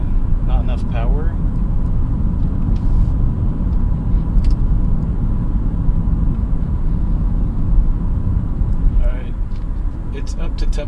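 A 2002 Honda Odyssey minivan drives on a test drive. Its engine and road rumble stay steady and close from inside the cabin, and a person talks over it.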